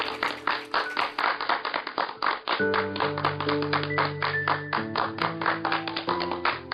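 A group claps for a student's class position, brisk rhythmic clapping throughout, joined midway by sustained background music tones.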